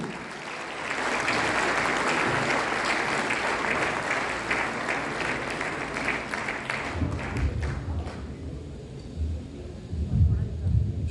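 Sustained, loud applause from an audience at a mushaira, an Urdu poetry gathering, dense clapping that swells and holds, then thins out near the end as it gives way to lower rumbling sounds.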